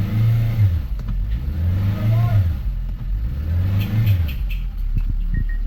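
A Nissan X-Trail Hybrid with a fault is revved with the accelerator pressed, the engine note swelling and falling in three repeated surges, close and loud, with a few faint clicks near the end.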